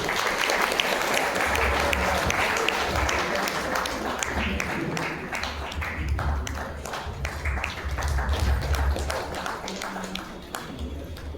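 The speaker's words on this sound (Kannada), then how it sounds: "ಚಪ್ಪಾಳೆ ಬರ್ಬೋದು" An audience at a Gamaka festival event claps in sustained, dense applause that carries on without pause, with some scattered louder claps.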